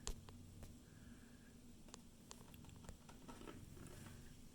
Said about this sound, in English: Enjoy the rain starting again.